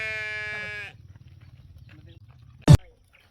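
Sheep and goats on a farm in Bacsay, Camiling, Tarlac: one drawn-out, wavering bleat rings out close by, then fades into low outdoor rumble before a single sharp knock near the end.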